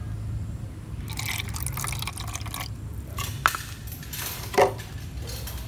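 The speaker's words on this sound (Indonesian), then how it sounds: "kita tuangkan air bersih ke dalam wadah sekitar setengah sampai 1 ruas jari" Clean water is poured into a small container for a coleus cutting, a soft splashing trickle heard close, followed by a couple of brief drips and light clinks, with no talk.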